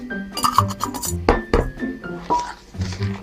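Sugar being stirred into bread flour in a bowl, with a spoon or whisk clinking repeatedly against the bowl in an uneven rhythm, close by, while someone talks over it.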